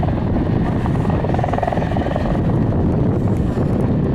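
A loud, continuous rotor thump and turbine roar from an RCAF CH-146 Griffon helicopter performing at an airshow, buffeted by wind noise, with voices talking underneath.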